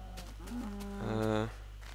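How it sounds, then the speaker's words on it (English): A mooshroom cow in a video game gives a low, drawn-out moo that swells in the middle of the clip, heard close under a steady low background hum, with no talk over it. "Hi, Mr. Mushroom Cow."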